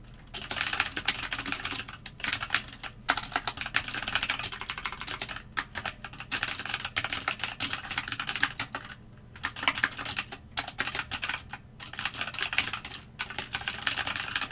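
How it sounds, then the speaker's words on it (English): Rapid typing on a computer keyboard, dense clicking keystrokes in continuous bursts broken by brief pauses, close and clear with no talking. "Sorry I'm doing so much typing this morning."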